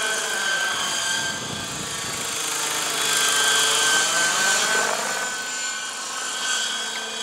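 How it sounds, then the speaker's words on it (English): Hirobo EC120 electric-converted RC helicopter hovering on a test flight, its rotor blades giving a steady, whirring buzz with a gentle rise and fall in loudness, continuous and fairly close, with no talking. "They sound very nice, those blades"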